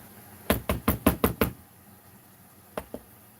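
A quick series of six dull knocks, then two more a moment later, like loose sand thumping inside a rolling tire, close and clear.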